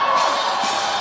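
At a street rally, a dense crowd roars with cheers and shouts, loud and close, in one continuous wave of voices that rises briefly in brighter bursts.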